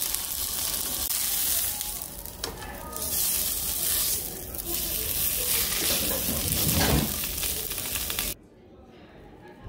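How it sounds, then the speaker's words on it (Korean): Sous-vide meat searing in hot oil in a pan, a steady loud sizzle with occasional stirring and spatters, running continuously until it drops away near the end, with faint voices in the background. "기름을 두르고 겉에가 맛있어 보이도록 잘 구워줍니다."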